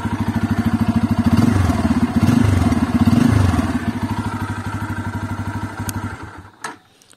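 A Bajaj Pulsar F250 motorcycle engine idles steadily up close, a fast regular chugging pulse that swells slightly, then cuts off abruptly near the end.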